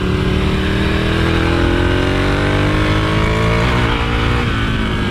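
A scrambler motorcycle climbing a hill in second gear, its engine loud and close with a rising, rasping drone and a brief dip near the end, heard alone without speech.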